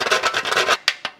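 Whole nutmeg rasped against a grater over a lasagne sauce: a quick run of close scraping strokes, then two separate short scrapes.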